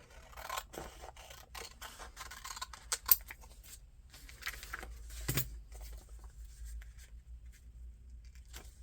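Scissors or clippers snip flower stems in quick, close, crisp cuts, with soft rustling of stems and leaves between snips and a louder clip partway through, no voices.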